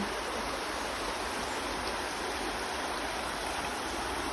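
A steady, full rush of flowing stream water, constant and close, with no pauses or voices.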